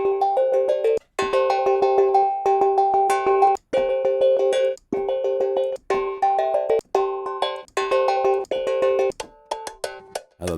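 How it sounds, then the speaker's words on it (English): Synthesized BPM bell tones from a sound patch ring out in steady rhythmic bursts of bright metallic strikes, with short gaps between phrases and a black drum patch adding occasional low hits, loud and alone with no talking. "So yeah, you can have lots of fun with the BPM bells."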